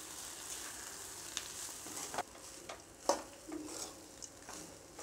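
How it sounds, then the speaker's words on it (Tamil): Masala stirred through cooked rice in a hot pan, a soft continuous sizzle broken by several sharp scrapes and clinks of a spoon against the metal, close up with no talking. "நல்லா அந்த மசாலாவை சாதத்தை கிளறி விட்டுக்கலாம்."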